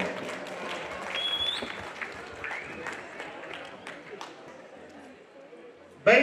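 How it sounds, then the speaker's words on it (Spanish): A crowd applauds after a women's ranchero boxing bout in Zacatepec Mixe, Oaxaca, a ragged, moderately loud clapping under a loud announcer's voice, ending in a sudden close thump. "¡Que se oiga ese aplauso!"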